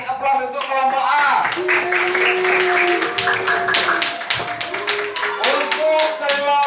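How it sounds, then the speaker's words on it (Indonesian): A class of fifth-grade pupils claps together for group A, a steady burst of applause that fills the room, with voices calling out and chanting over the clapping. "kasih aplaus untuk kelompok A"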